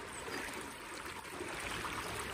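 River water flows steadily around a person standing in the current, a soft, even rushing wash heard alone at low level.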